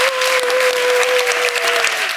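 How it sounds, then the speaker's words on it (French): An audience at a children's TV game show claps loudly and continuously, a dense close applause with a steady tone ringing underneath. "on applaudit encore"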